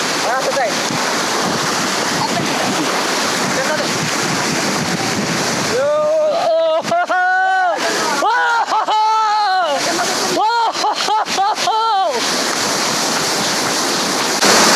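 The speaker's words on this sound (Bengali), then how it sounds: "আমি বলছিলাম না এমন ঝর্ণায় তোমাদেরকে নিয়ে যাব যেটা বাংলাদেশে কখনো দেখো নাই" Steady, loud roar of rushing water at a wild waterfall in Bangladesh, Suptadhara or Sohosrodhara, heard up close, with voices talking over the middle part.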